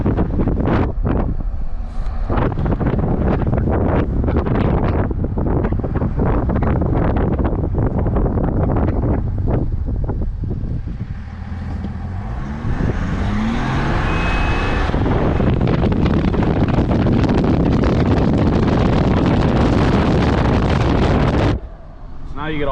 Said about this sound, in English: Now you get all the wind noise and everything.